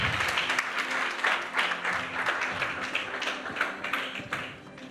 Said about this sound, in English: Everyone, applause for Joseph, please.